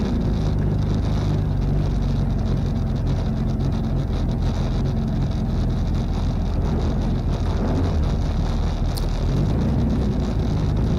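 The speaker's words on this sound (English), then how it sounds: "You can hear the engine revs rise really quickly, but the car doesn't accelerate." Drag car at Santa Pod with a slipping clutch, its engine roaring continuously on boost as revs climb, loud and close amid heavy wind noise.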